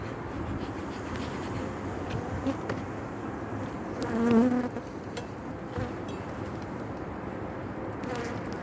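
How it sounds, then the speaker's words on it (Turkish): Steady buzzing of many agitated bees during a winter hive check, dense and restless throughout, with a brief louder swell midway as a few pass close. "Arılar biraz sinirlendi."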